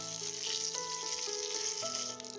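Green chillies and curry leaves sizzle in a spoonful of hot oil that has already popped mustard seeds, tempering for Onam sadya pavakka kichadi. The frying hiss is steady and moderately quiet, with a background tune playing throughout.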